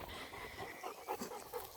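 Cane Corso dogs panting close by on an outing to a waterfall in Georgetown, Texas, a steady quiet rhythmic breathing with no talk.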